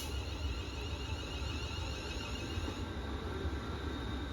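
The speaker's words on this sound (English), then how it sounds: "here comes my train, which is going to Stafford" A British Rail Class 350 electric multiple unit bound for Stafford approaching on the North Staffordshire line, a steady rumble and whine with a faint high squeal, heard from a platform at moderate distance.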